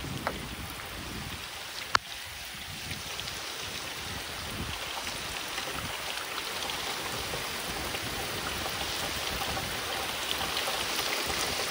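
Steady rain falls beside a river on a fishing outing, a continuous soft patter with water flowing underneath and one sharp knock near the start; no one speaks.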